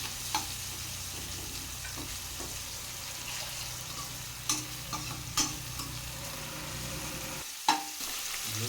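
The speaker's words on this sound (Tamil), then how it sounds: "இப்போ இதை 1 நிமிஷம் நல்லா வதக்கி விட்டுக்கலாம்." Chopped onion and green chili sauté in a pan for egg fried rice, a continuous soft sizzle broken by occasional spatula scrapes and taps, with no one speaking.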